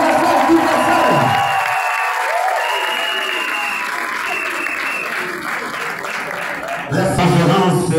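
Applause and cheering fill a whole hall at a political movement's press conference, loud sustained clapping with whoops, and voices rising over it near the end.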